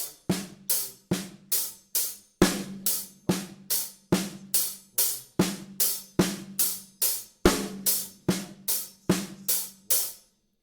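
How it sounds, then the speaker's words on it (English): Hand pattern alone for a 6/8 rock drum beat: crisp, evenly spaced strikes in steady groups, with recurring louder accented hits, played close and clear with no talking. "So here's just the hand pattern alone."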